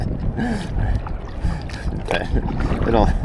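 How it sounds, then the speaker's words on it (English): Gusty wind swirling around buildings near a dock on the Florida Gulf coast, rough buffeting rush with water sloshing against a small boat, voices faintly underneath. "The buildings are making the wind a little gusty."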